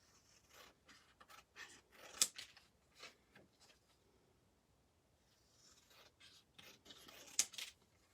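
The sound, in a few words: cutting paper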